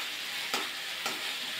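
Eggs fry and sizzle in a pan as they are stirred, with a steady soft hiss broken by two distinct scraping strokes of the spatula.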